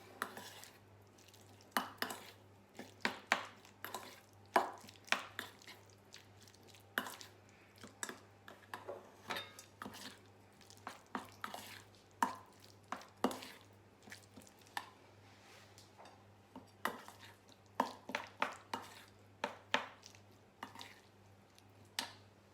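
Mincemeat is worked in a bowl with a spoon, giving a long run of irregular clinks and soft squishy scrapes against the bowl, close but fairly quiet, with no speech.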